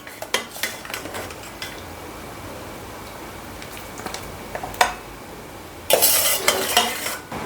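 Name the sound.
plates being set out and dishes clinking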